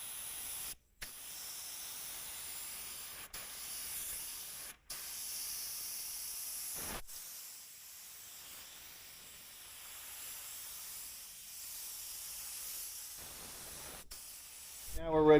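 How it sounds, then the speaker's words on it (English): A spray gun lays 2K urethane primer on a car body repair in a long continuous hiss, cut by a few brief silent pauses between passes, with a louder burst at the end. "we'll apply a 2nd coat of this 2K urethane primer"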